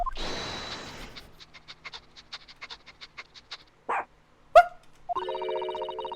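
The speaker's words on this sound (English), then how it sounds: "Well, Chief Inspector Toby, if you wouldn't mind having a sniff of this." A burst of rustling, then a run of quick rhythmic sniffs and pants from a dog in a video game, followed by a few short sounds and a ringing electronic tone.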